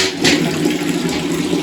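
Water rushes loudly and steadily into a container being filled at home in the morning, a close, continuous gushing with no voices.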